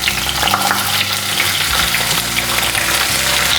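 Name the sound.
slit ivy gourd frying in hot oil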